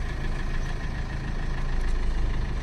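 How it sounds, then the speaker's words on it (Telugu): A used Maruti Ertiga with about 130,000 km on the odometer idles with a steady low engine rumble, constant and close throughout. "మీరు ఇంజన్ సౌండ్ వినొచ్చు."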